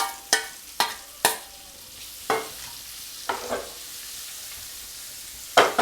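Paneer cubes frying in a little oil in a frying pan, a steady close sizzle broken by sharp, regular scrapes and clatters of a spatula stirring them, with no talking.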